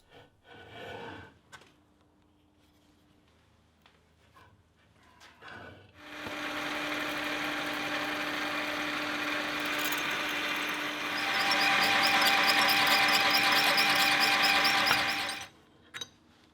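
Drill boring a perpendicular hole through a round steel bar, a steady grinding whine starting after faint handling knocks, growing louder and harsher midway, then stopping abruptly.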